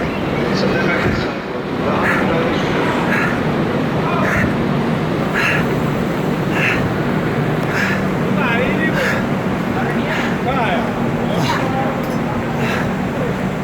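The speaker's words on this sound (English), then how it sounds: "I've never seen a train this long in my life." Long Avantika Express train standing at the platform at Mumbai Central railway station, a steady loud rumble and hum of station and train noise with clattering transients throughout, with voices talking over it.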